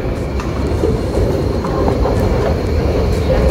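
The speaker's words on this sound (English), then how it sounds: "So here's one of the trains coming right now." A subway train pulls into a station platform in Singapore, a loud continuous rumble of wheels on rails with faint clicks and light squeals over the roar.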